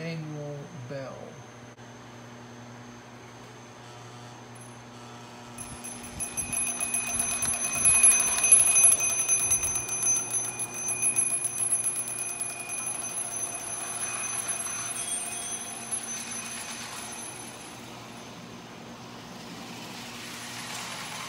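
The automatic manual bell on a Missouri Pacific Alco PA dummy A unit model train rings steadily for a long stretch under rumbling track and motor noise, faint at first and then louder.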